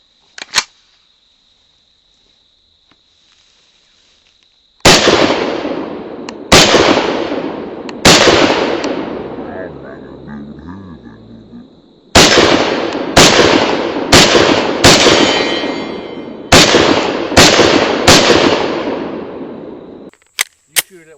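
Pistol shots from a Mossberg MC2C at an outdoor target range, a lone early crack, then a string of about ten sharp, loud reports at irregular spacing, each ringing out briefly; a faint steady insect-like whine sits behind.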